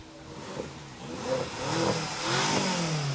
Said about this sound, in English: We got some revving of some engines here.